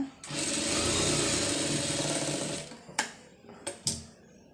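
Sewing machine joining an embroidered sleeve at the armhole, running steadily and close for about two and a half seconds, then stopping, followed by a few sharp clicks and brief whirs.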